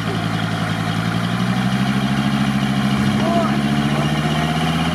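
A GAZ-69 engine runs loud and steady at a low rumble during an off-road recovery of a Toyota Land Cruiser 70, with a slight rise in pitch partway through and voices talking over it.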